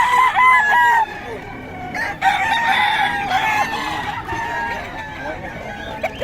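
Several roosters crow in overlapping calls amid steady clucking at a chicken market in Bocaue, with lively crowd chatter throughout.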